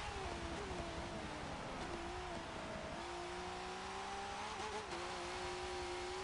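Monster Energy Ford Falcon V8 Supercar engine at Brands Hatch in Forza 7, a steady droning V8 note rising and dipping through gear changes, continuous and close, with no talking over it.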